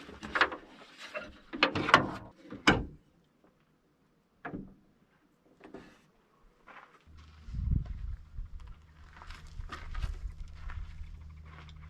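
The bonnet of a 1998 Land Rover Wolf 110 is lowered and shut at a desert camp: a few close metallic clatters and a firm thump, then a low steady hum.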